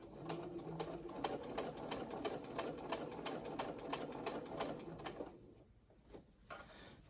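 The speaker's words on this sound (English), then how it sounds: "Sew a little bit more." A sewing machine stitches a V-neck shirt, a quiet, rapid rhythmic chatter of needle strokes that runs steadily for about five seconds, then stops and gives a few short bursts.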